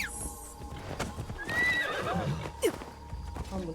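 A horse in the Assassin's Creed Shadows video game gallops with rapid clip-clopping hooves and lets out a loud, shrill neigh midway, mixed with game ambience and scattered impact sounds.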